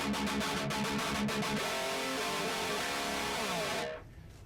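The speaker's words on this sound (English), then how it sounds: "so you can hear no cab sim on the left and a cab sim on the right" Electric guitar through a Hotone Ampero, one stereo side without cabinet simulation and the other with it, playing dense chords and then sustained notes at a steady loudness before a quick fade to near silence.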